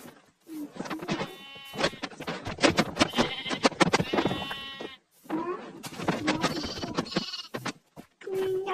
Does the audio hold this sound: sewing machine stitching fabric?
no